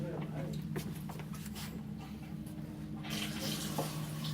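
Water runs from a tap onto a laboratory sink, a steady faint splashing stream under a low mechanical hum with brief clicks and knocks. People talk nearby.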